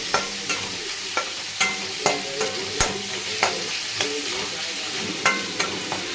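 Red chillies frying in oil for a country chicken curry: a steady sizzle broken by sharp, regular scrapes and clatters of a stirring utensil in the pan, close and moderately loud with no talking.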